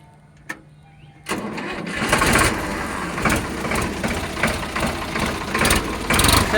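A Sonalika 745 tractor engine cranks on its self-starter and catches, then settles into a loud, close, knocking diesel idle with a steady chugging rhythm.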